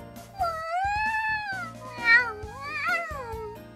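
A voice imitates a cat, drawn-out sliding meows rising and falling in pitch, close and loud with no other sound around them.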